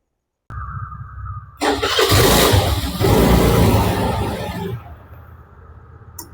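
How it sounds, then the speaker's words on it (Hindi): A Skoda car running on E20 petrol, with water found in its fuel, cranks briefly and then starts in a single attempt. A loud roar follows and settles into a steady, close idle, with no talking. "अब इसको हम स्टार्ट करके देखते हैं कि कितने झटके में गाड़ी स्टार्ट होती है।"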